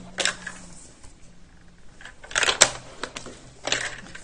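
A paper trimmer slices through sheets of printed paper, several crisp short cutting swishes and clacks spaced irregularly, close and fairly quiet.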